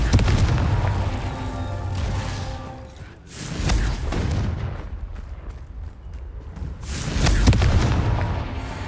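Confringo blast spell explosions in the video game Hogwarts Legacy during the Merlin trials: deep, heavy booms with rumbling tails, about three distinct blasts spread apart, loud and alone.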